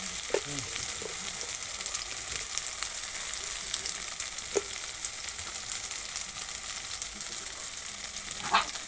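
Spice paste with salt and turmeric sizzles steadily in a hot pan, a dense close crackle with occasional stirring scrapes and pops, no talking.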